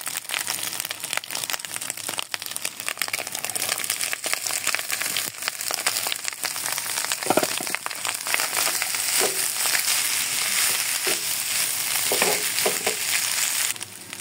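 Cooked rice tossed and stir-fried in a pan with garlic: a steady, close sizzle with dry crinkling and scraping runs throughout, with a few louder stirring scrapes near the end.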